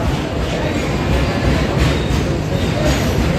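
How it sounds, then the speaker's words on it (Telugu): A passing train rumbles loudly and continuously, with a dense rattling roar of wheels on track throughout. "రైలు వచ్చి వెళ్ళిపోతుంది అనమాట ఇప్పుడు ఒకటి వచ్చి పోతుంది"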